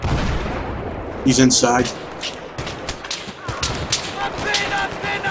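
Battlefield 3 gunfire rings out in several sharp bursts of rifle and heavy weapon shots, with distant booms between them, while players talk over the action.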